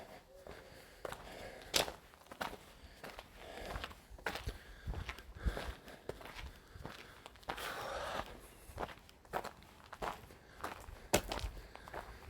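Footsteps walk along at a steady pace outdoors at night, each step a soft, close thud with scuffing between them, quiet and alone without talk.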